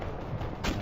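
A grenade launcher fires in Call of Duty: Modern Warfare Remastered, a dense, loud burst of low rumble with a sharper blast rising near the end of the brief clip, with no talking.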